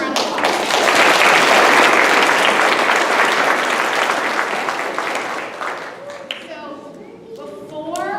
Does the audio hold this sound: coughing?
no